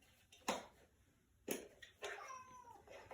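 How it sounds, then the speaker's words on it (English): A pet cat meows a few times nearby in a home kitchen during baking, short separate calls at moderate volume with quiet pauses between them and no talking over them. "there goes my cat again"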